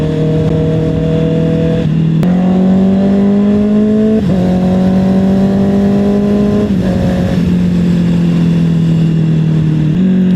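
A big bike motorcycle engine revving close and loud, its steady idle note climbing through several rising rev sweeps and dropping back between them, with no talk.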